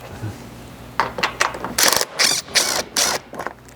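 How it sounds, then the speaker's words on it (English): A ratcheting socket wrench loosens bolts on the plastic skid plate of a Chevy Colorado, with close, loud bursts of rapid clicking in short, repeated runs. "Here we're going to be removing the 5 bolts remaining holding this plastic skid in place"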